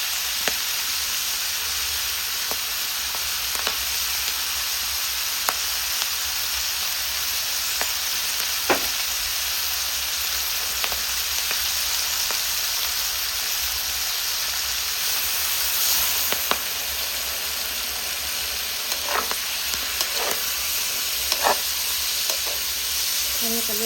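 Sweet peas stir-fried with chili in a hot pan give a steady, close sizzle, with scattered scrapes and clacks from stirring and no talk.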